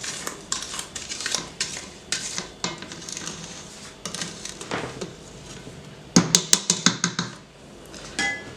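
Butter mixture scraped around a mixing bowl for chocolate cookie dough, with repeated clattering scrapes and knocks of a spatula against the bowl, busier and louder near the end, without talk.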